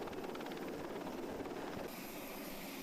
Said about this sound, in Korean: 전투병력을 태운 헬기가 적 침투 지역 10여 미터 상공에 도달하자